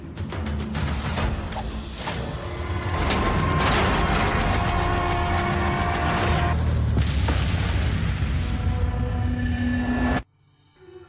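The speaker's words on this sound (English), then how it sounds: "the good news is the explosion wasn't that large" A deep, rumbling explosion in the Dark Tales video game swells into a sustained roar with mechanical tones, lasting several seconds before cutting off abruptly into near silence.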